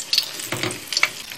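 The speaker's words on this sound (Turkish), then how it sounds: "Yağımız kızdıktan sonra balıklarımızı koyacağız." Bonito fish fillets hit hot oil in a frying pan, giving short, bright bursts of sizzle that flare up one after another and settle between each addition.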